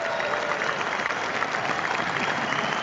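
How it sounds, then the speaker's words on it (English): Dense, steady applause from a crowd, a continuous wash of clapping with no distinct voices standing out. "a big round of applause for the Sports Circus"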